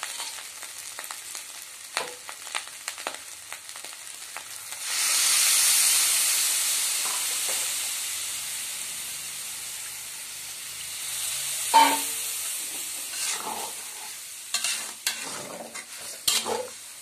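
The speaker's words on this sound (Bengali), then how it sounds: "আমি এখন জল দিয়ে দিচ্ছি।" Water poured into a hot pan of fried rice and vegetables for vegetarian khichuri: scattered stirring scrapes, then a loud burst of sizzling hiss that slowly fades, followed by further clinks and stirring, nearby.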